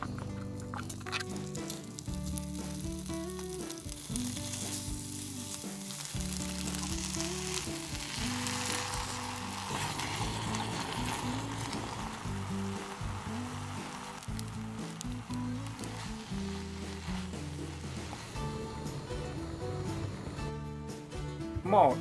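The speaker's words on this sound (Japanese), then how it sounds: "まずはタン塩を少し炒めてから追加と" Salted beef tongue stir-fries in a pan during car camping, a continuous close sizzle and crackle lasting throughout, with occasional stirring clatter and faint background noise.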